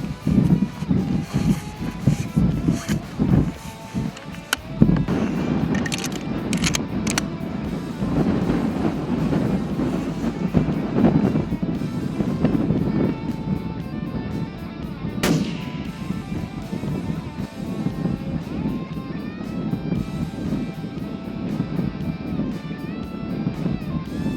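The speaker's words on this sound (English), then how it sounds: "The wind picked up a little bit while we were shooting." Wind gusts across a canyon at a long-range shooting site, producing a continuous low buffeting rumble against the microphone. A couple of sharp bangs stand out partway through.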